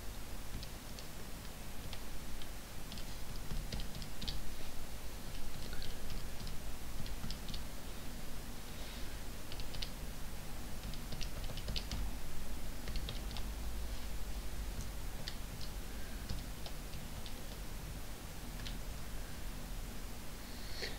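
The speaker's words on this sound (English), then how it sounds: "I'm going to type that into the calculator" Numbers being typed into a calculator: faint, scattered clicking keypresses in uneven clusters over a steady background hiss, with no talking.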